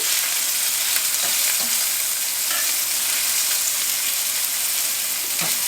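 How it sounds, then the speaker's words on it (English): Tex-Mex meatballs sear in a hot pan with a loud, continuous hiss and crackle, broken by a few faint clicks and shuffles as tongs flip them. "We're just trying to get a good sear on them right now."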